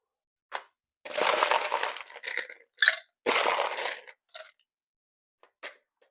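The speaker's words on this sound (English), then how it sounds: "we're going to fill the small shaker tin with ice." Ice cubes are dropped into a small metal cocktail shaker tin in a few crunchy, clattering bursts, followed by sparse single clinks as the pieces settle.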